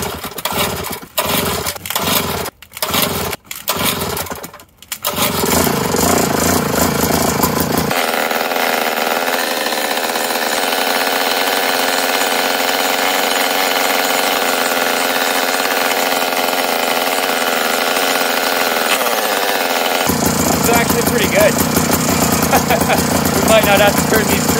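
A two-stroke Jiffy ice auger engine on full choke, several sharp pull-cord yanks and sputters, then it catches and runs at a loud, steady buzzing idle that shifts pitch partway through, close up.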